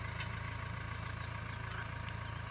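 A tractor engine idles at a fish farm lake, a steady low rhythmic chugging heard close and alone, even and unchanging throughout.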